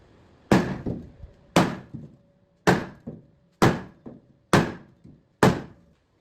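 A hammer strikes an aluminum boat to knock out a dent, six loud, evenly spaced metallic blows, each followed by a faint rebound tap and short ringing decay.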